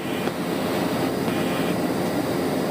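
A BFAR maritime patrol airplane in flight over the West Philippine Sea, its engine a loud, steady droning roar heard from inside, unbroken and without speech.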